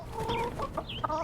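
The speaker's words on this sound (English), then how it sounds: "And the rooster. Who doesn't lay any eggs, but does keep the pens happy." A rooster in the farming game My Time At Sandrock gives a short run of clucks and throaty calls, close and clear, over a quiet game background.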